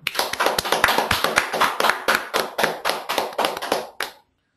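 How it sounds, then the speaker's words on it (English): A small group of people gives rhythmic, evenly spaced hand claps up close, about a dozen sharp claps at a steady tempo before stopping abruptly. "Big round of applause for Santosh Kumar."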